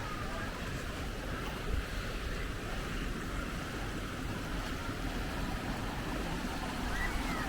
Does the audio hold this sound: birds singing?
no